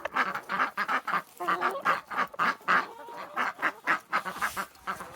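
A flock of ducks and geese quacks and honks loudly and continuously at a morning feeding, calls overlapping in a dense, busy chorus.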